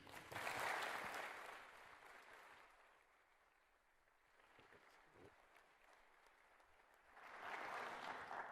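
An audience applauds to welcome actor Joe Mantegna at a military honoring event. The clapping swells, fades to a softer patter in the middle and then rises again, sounding somewhat distant with faint voices mixed in.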